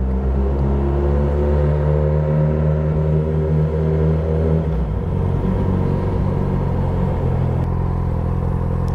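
A motorcycle passes along a city street in Las Vegas, its engine rumbling loud and steady, then shifting into a rougher, revving roar midway as it goes by amid ongoing traffic noise.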